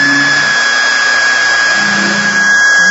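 A polishing machine buffing steadily with a finishing pad, a loud continuous motor whir with a high steady whine and slight variations in load as the pad is worked, no talking.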